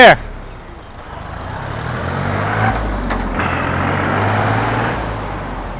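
A used Iseki NT540 tractor fitted with a dozer blade, about four to five years old with over 1,600 hours, idles with a steady low rumble after a sharp loud knock at the start, with a voice briefly nearby.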